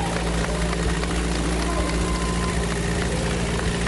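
An engine running steadily with its oil drained and rocker cover removed, a constant low mechanical drone and clatter at close range, with no pauses.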